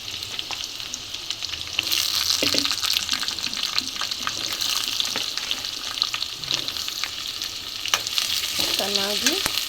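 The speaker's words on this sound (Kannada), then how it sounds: "ಉಳ್ಳಾಗಡ್ಡೆ ಆ್ಯಡ್ ಮಾಡ್ತಾಯಿದ್ದೀನಿ." Onion and green chillies sizzle steadily in a hot pan with curry leaves, a continuous frying crackle with occasional stirring scrapes and clinks, close and moderately loud, for a hotel-style potato palya.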